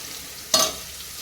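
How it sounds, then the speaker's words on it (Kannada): Mixed vegetables and spices frying in a pan for restaurant-style veg biryani, a low background sizzle cut by one sharp, bright stir or toss burst midway. "ಈ ಥರ ಎಲ್ಲ ಸೇರಿಸಿ ಈಗ ಚೆನ್ನಾಗಿ ಫ್ರೈ ಮಾಡ್ತೇನೆ"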